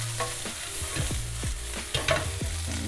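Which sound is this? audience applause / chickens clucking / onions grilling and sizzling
onions grilling and sizzling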